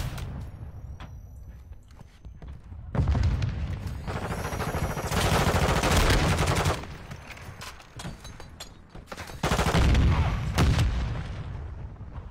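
Shotgun fire in Call of Duty arrives in dense bursts of booming, overlapping blasts that swell and fade over several seconds, set against a steady background of game ambience and scattered smaller shots.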